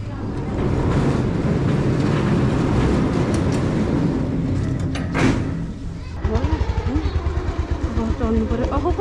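A motorcycle engine on a multi-day road tour through Nepal, a continuous rumbling drone that turns into a pulsing, throbbing idle near the end, with people talking over it.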